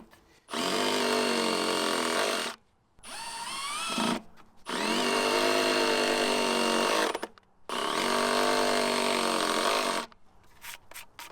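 A Milwaukee Surge hydraulic driver sinks three 3-inch deck screws into pressure-treated lumber, with three long, loud, whirring runs separated by short pauses and a few quick bursts at the end.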